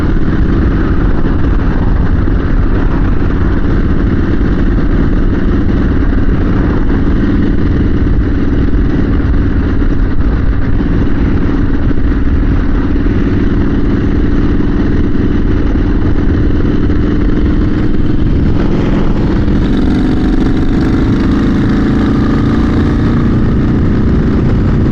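Motorcycle cruising at a steady 40 miles per hour on a wide open road, its engine droning loud and continuous with heavy wind rush, with a slight shift in tone near the end and no voices.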